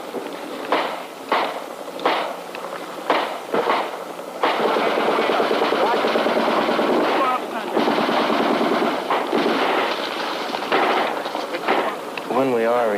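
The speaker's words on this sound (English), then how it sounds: "Who's that shooting?" War documentary battle scene with machine guns firing, short rapid bursts at first, then long sustained loud streams of automatic fire, close and harsh, with a brief shout near the end.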